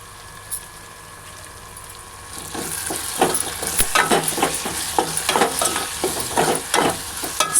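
Ginger garlic paste and turmeric are added to a hot pan for a besan curry. A quiet start turns into loud, crackling sizzling with fast stirring scrapes, close and continuous.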